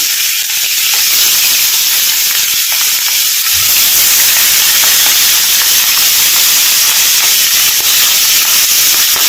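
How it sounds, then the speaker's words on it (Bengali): Tangra fish frying in mustard oil gives a steady, loud sizzling hiss that runs unbroken from start to finish, with no voices. "মাছটা ভাজা হতে থাক"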